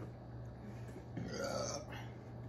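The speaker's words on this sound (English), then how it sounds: "I'm burping for the next hour." A person burps after chugging cold Pepsi, one drawn-out belch rising in the middle, fairly close but faint and low in level, with no talk over it.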